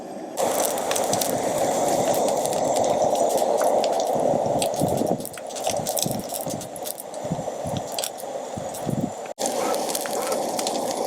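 Fish wrapped in a coating fries in a titanium pan over a backcountry fire, giving a steady, loud, close sizzle and crackle throughout, with wet popping and sputtering bursts.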